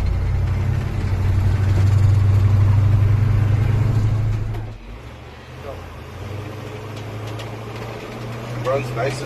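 Ford HighBoy truck engine idling with a steady low rumble that drops away partway through, while someone talks over it.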